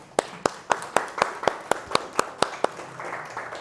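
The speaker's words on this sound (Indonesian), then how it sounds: "tepuk tangan." Audience in a university teaching session clapping in about ten distinct, evenly spaced claps over three seconds, fairly close, then fading into quiet room noise with no talk.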